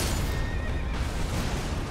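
A horse neighs loudly in Elden Ring, a single drawn-out whinny over a steady, noisy game background with no talk.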